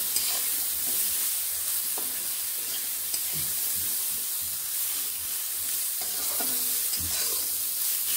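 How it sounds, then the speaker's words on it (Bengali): Beans frying in a pan with salt and turmeric powder, a loud continuous sizzle with scraping stirring strokes now and then, no talking. "নুন হলুদ গুঁড়োগুলো মিশিয়ে আমি ভালোভাবে ভেজে নেব বিনসগুলোকে"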